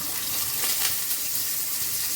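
Diced potato cubes frying in hot oil for a light fish curry, giving a steady close sizzle with soft crackle throughout, no voices.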